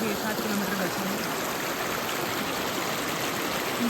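The Narmada river flows along its bank, a steady, dense rush and trickle of water heard close up and continuous throughout with no talking.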